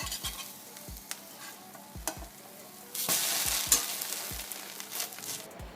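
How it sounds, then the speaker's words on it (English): French toast sizzles in a frying pan with a steady hiss, punctuated by repeated low knocks of a utensil against the pan, then a louder surge of sizzling as a slice is flipped. "this one's looking good on the one side, so let's flip this one"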